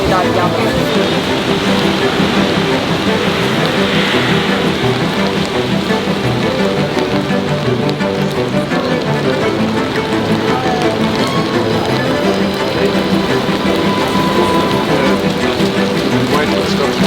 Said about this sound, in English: Wait till it stops raining.